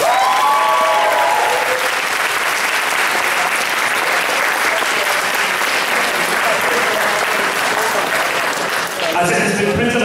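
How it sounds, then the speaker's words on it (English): Loud, sustained applause from a large crowd, steady clapping throughout with a brief lull near the end. "Round of applause, please."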